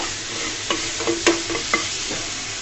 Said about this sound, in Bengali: সামান্য পরিমাণে লবণ দিয়ে চিংড়ি মাছগুলোকে ভেজে নিব